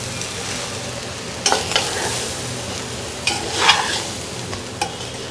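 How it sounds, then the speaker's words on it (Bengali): Cooked rice for vegetable fried rice is tossed and stirred in a hot pan, a constant close sizzle punctuated by a few clattering spatula scrapes and knocks. "রাইসটা দিয়ে এখন এটাকে নেড়ে চেড়ে মিক্সড করে নিচ্ছি"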